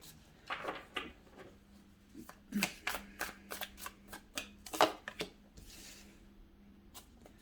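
A This Might Hurt Tarot deck being shuffled by hand, a series of crisp riffling card bursts and soft slaps in quick irregular rhythm, close and fairly quiet, with little else around.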